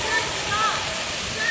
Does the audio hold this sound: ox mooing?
no